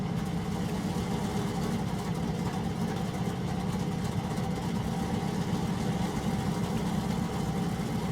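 Engine number 6 of a Latecoere 631 flying boat spinning up in a flight simulator, a steady low droning rumble with a constant mechanical hum, holding even and continuous with no talk.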